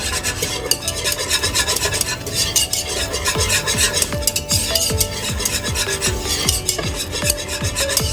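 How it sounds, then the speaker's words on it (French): A whisk stirring a roux into blanquette de veau sauce in a pot, with brisk continuous scraping and rhythmic metallic swishes over a soft bubbling sizzle, close and steady, no speech. "Il faut bien remuer pour éviter qu'il y ait trop"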